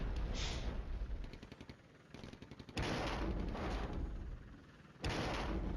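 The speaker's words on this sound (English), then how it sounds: "And there go the mortars." Mortar fire in the Flashpoint Campaigns Red Storm war game comes as bursts of booming impacts, several rumbling blasts in sequence with brief quieter gaps between them.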